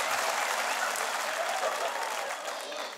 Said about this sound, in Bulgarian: просто пускам аплодисменти, имам записани аплодисменти вкъщи